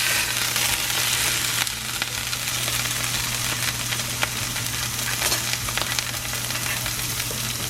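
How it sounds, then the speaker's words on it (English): Steak sears in a hot pan with a loud, continuous broadband sizzle and crackle, close and steady throughout, with a low hum beneath and no talk. "When you hear that sound, that's what you want to hear, is that immediately searing the sides"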